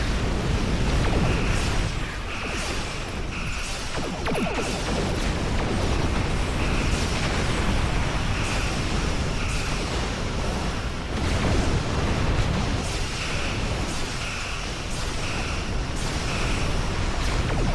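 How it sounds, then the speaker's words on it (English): Torpedo blasts and combat rumble in Star Trek Online fill a dense, continuous roar of space battle, with bursts of heavier impacts swelling every few seconds against an unbroken noisy background. "Torpedo."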